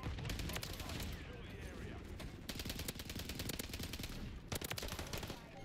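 Sustained automatic gunfire in Call of Duty MW3, with dense rapid shots rattling almost continuously at close range, interrupted by brief pauses, with faint voices underneath.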